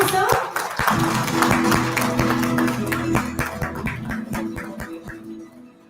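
Audience clapping at a summit award ceremony as the Permaculture Nepal founder receives a sustainable innovation award, sharp close claps over a musical tone bed, tapering off toward the end.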